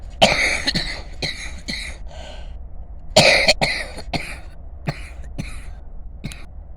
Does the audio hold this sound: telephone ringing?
no